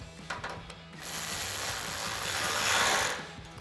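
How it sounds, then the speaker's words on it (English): A 5mm tool tightens a bolt with lock washer and nut on a 2024-2026 Tacoma RedRock aluminum roof rack, giving a few light clicks followed by a steady close ratcheting rasp that swells and then stops. "we're gonna tighten that down with our 5mm"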